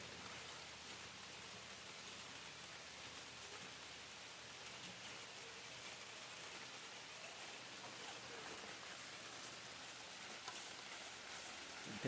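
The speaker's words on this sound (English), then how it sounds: "It's raining." Rain falls outdoors as a faint, even hiss that holds steady throughout, with no distinct drops or voices standing out.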